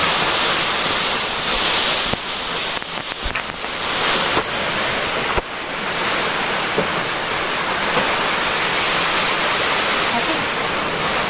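Heavy rain pours steadily on a leaking house in a dense, loud hiss with no letup, a few faint knocks and voices buried underneath.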